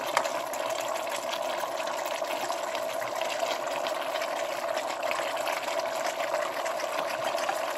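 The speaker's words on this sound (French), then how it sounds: "j'ajoute un peu d'eau pour faire cuire un peu les choses" Water poured into a cooking pan of peppers and chili peppers for a Congolese salted fish and eggplant dish, a steady continuous pouring and sizzling wash at even loudness throughout, with no talking.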